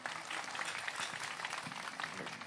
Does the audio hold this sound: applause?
yes